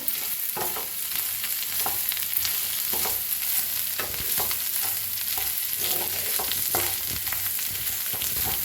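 A spoon stirs potato bhaji in a hot pan, with a steady sizzle under repeated scraping strokes at a fairly regular rhythm, close and without speech.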